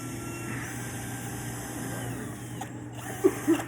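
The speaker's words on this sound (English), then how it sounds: "I'm going to drill a couple pilot holes here." A power drill whirs steadily for a few seconds while drilling pilot holes in a semi-circular arch form for brickwork, then stops, followed by a couple of soft knocks.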